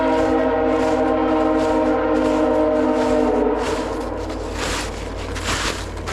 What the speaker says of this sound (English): It's like a passenger train.